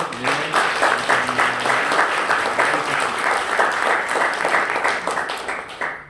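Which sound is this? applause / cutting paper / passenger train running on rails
applause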